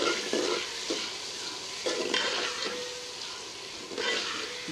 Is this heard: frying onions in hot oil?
yes